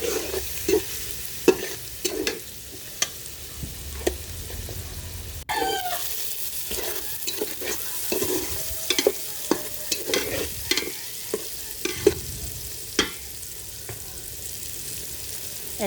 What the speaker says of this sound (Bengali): এখন আমি মশলাটা ভালোভাবে কষিয়ে নেব